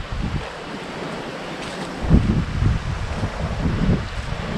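Sea surf and gusting wind along an island coastline, with waves washing in low rumbling surges and wind buffeting the microphone, steady and fairly close.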